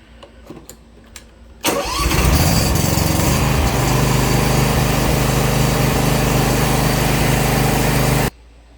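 A Big Dog Alpha 36-inch zero-turn lawnmower's two-cylinder engine cranks briefly, catches with a burst, then settles into a loud, steady close-up idle that runs until an abrupt stop.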